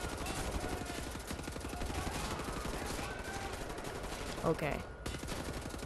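Rapid machine-gun fire in the video game Wolfenstein: The New Order, a continuous fusillade of quick repeated shots that runs throughout, heard faintly and mixed with a voice.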